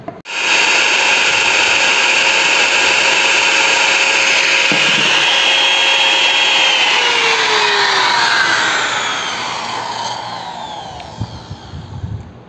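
A Modern M2700 wood trimmer, a 440-watt router rated around 30,000 RPM, runs at full speed with a loud, steady high-pitched whine that holds, then dips slightly in pitch and fades toward the end, with no talking.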